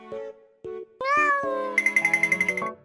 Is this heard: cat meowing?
yes